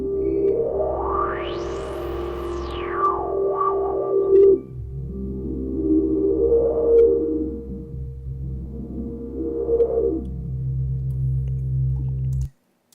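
Resonant synth pad run through distortion, its filter cutoff swept up and down by the mod wheel in a rising-and-falling pattern of whistling peaks over a steady droning tone, continuous and fairly loud.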